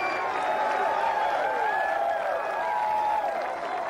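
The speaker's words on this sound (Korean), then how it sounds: "이제 마지막 홀, 많은 환호를 받으며 티잉 그라운드로 올라갑니다." Golf gallery at the 1997 Masters cheers and applauds as the player walks to the 18th tee, a dense, sustained wash of clapping and whoops from a large crowd, with a commentator talking over it.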